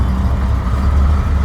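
A 1955 Buick Special's engine running, a loud low rumbling idle that stays steady and close for the brief moment, with no talking.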